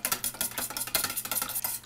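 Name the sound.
whisking egg into takoyaki batter with chopsticks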